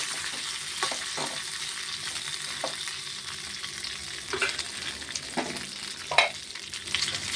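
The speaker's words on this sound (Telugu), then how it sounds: "కొంచెం వెల్లుల్లిపాయ జీలకర్ర వేసుకుని ఇలా ఫ్రై చేసుకున్నాను. చూడండి దోరగా ఫ్రై అవుతున్నాయి." Garlic and cumin seeds fry in a pan with a steady close sizzle and crackle, broken by occasional stirring scrapes and small pops, no talking.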